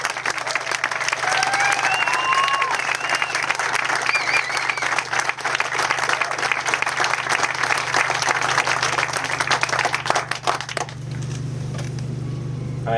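An audience applauds to welcome a builder from Atlantic Builders at a donated-house event, loud sustained clapping from a crowd that fades out near the end, leaving a low hum.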